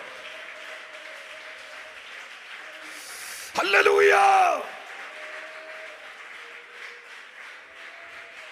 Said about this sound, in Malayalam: നല്ലായിട്ട് കൈയടിച്ച് come on